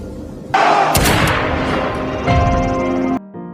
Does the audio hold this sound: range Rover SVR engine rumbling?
no